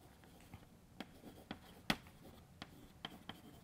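Quiet, sparse taps and short scratches of writing an equation on a classroom board, faint and intermittent with small pauses between strokes.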